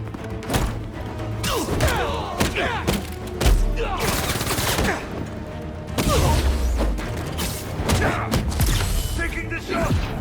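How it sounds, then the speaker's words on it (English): Enemy guns open fire in the Marvel's Spider-Man 2 video game, dense bursts of loud automatic gunfire and heavy thuds over mechanical clanks and creaks, with voices underneath. "Opening fire!"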